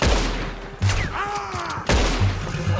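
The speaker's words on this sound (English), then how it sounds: "Shoot that bastard already." Gunfire in the video game Red Dead Redemption 2: two loud, close shots with booming tails about a second apart, and a brief voice between them.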